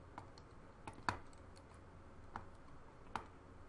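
Sparse, faint computer clicks and a few keyboard taps, spaced irregularly over a quiet room hum, with one slightly sharper click. No one talks.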